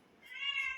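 A kitten gives one short, rising meow at close range, starting soft and swelling toward the end, with nothing else around it.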